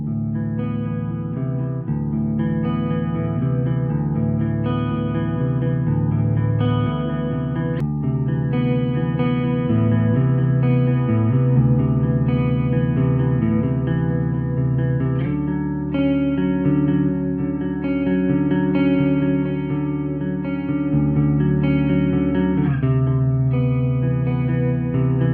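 A 1983 Peavey Mystic electric guitar plays sustained chords and melodic lines with a clean, ringing tone and a touch of chorus and reverb, continuously with no talking.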